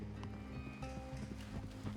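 Hooves of a Shire horse clip-clopping in Red Dead Redemption 2, a steady rhythmic run of close, distinct hoofbeats over a sustained tonal background, with no speech.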